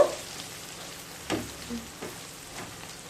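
Chicken masala with turmeric and salt frying in a pan: a quiet, even sizzle with a few soft scraping thumps as it is stirred, close by and without voices.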